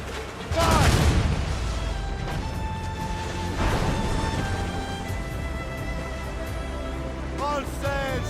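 Ship cannons fire in Assassin's Creed Rogue during a naval battle, sending heavy booms and crashing blasts across a loud sea-combat soundscape, with game voices shouting orders between the shots.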